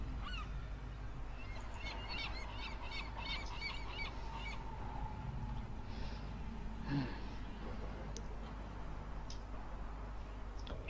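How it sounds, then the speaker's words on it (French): Seagulls call faintly in the distance in short bursts of harsh, honking cries over a low background rumble. "où des mouettes semblent lui répondre"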